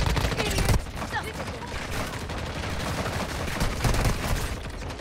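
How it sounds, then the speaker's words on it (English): An enemy in Warzone Mobile empties a full rifle magazine, a sustained rattling burst of rapid fire with a couple of louder surges, while a player talks over it. "He unloaded a whole fucking clip, chat."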